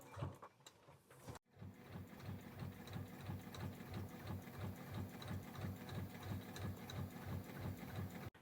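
A sewing machine stitching a dress runs steadily at a moderate pace after a brief pause near the start, a soft, even mechanical whir with a regular rhythmic pulse, close by and fairly quiet, with no talking.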